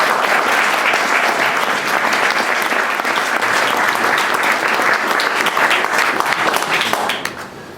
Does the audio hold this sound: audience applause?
yes